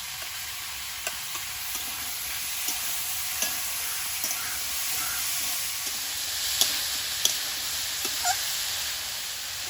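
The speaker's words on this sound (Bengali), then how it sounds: "চিংড়ি মাছে সবজিটা ভাজা ভাজা হয়ে এসছে" Prawns and vegetables sizzle steadily in hot oil in a pan, a continuous close hiss with occasional soft stirring clicks and pops.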